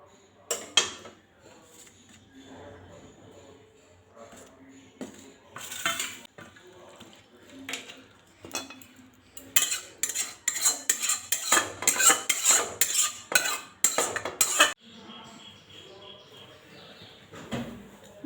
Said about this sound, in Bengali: আর আমি এখন পাত্রে ঢেলে নেব